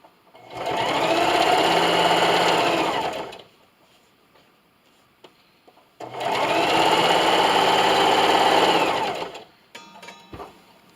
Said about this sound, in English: Now I'll go ahead and sew on the final strip